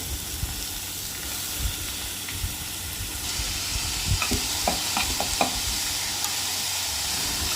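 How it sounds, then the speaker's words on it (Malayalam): Papaya and chopped onion cook in a hot pan with a steady, close sizzle and hiss, and a few light clinks and scrapes of stirring come in partway through. "ഇനി നമ്മൾ റെഡിയാക്കി വെച്ച പപ്പായയും ഒരു സബോള കൂടി അതിൻ്റെ കൂടെ അരിഞ്ഞത് ചേർത്ത് കൊടുത്ത്"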